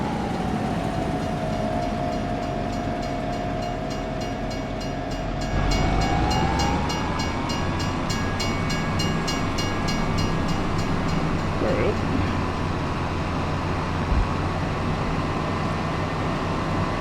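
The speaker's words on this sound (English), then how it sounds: "Ah, man, we didn't beat the train." A train rolls past in Farming Simulator 25 on the Riverbend Springs map, its steady rumble and clatter filling the whole stretch with a drawn-out horn-like tone sliding in pitch, loud and continuous throughout.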